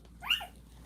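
A puppy gives a single short, high whimper or yelp, faint and close, in an otherwise quiet moment with no speech.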